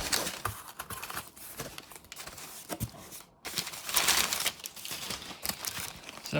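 A package of 3D printer filament is cut open with scissors, giving scattered crinkles and rustles of plastic bags, with snips and handling noises coming in irregular bursts, quiet and close, no speech.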